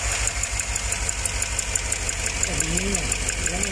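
An idling Chevrolet Tahoe engine with a misfire runs with a rough, uneven knocking pulse and a faint high whine, while a voice speaks briefly over it near the end.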